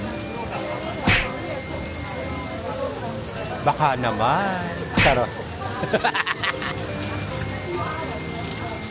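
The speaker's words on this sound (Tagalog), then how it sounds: "And it's still raining." Steady rain falls in Boracay as a constant broadband hiss, with people talking and laughing close by over it.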